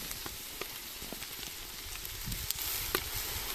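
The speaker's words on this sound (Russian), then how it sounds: "И теперь кипяток." Boiling water hits a hot kazan of plov and sets off a soft, steady sizzle and crackle, fairly quiet and close, with no voices.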